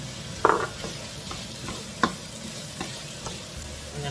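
Peppers and cauliflower sizzle in a frying pan for a vegetarian cottage pie, a steady close crackle broken by a few sharp clacks of utensils stirring against the pan.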